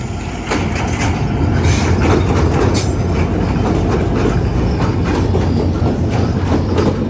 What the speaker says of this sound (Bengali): আমরা যদি এই ট্রেনের দিকে একটু দেখি